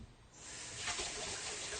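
Tap water runs steadily into a sink to rinse a spoon while baking a gluten-free apple crisp, starting softer and swelling into a continuous close hiss for about two seconds.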